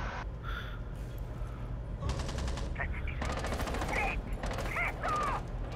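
Rapid automatic gunfire in the tactical shooter Rainbow Six Siege comes in several loud, rattling bursts separated by short pauses, with other sharp in-game effects between them.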